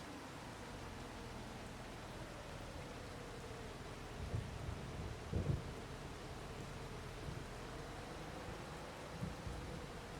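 Steady rain falls in the video game Farming Simulator 25 on a Frankenmuth, Michigan farm, a continuous soft hiss with a low rumbling undertone and a few faint thumps, with no talking.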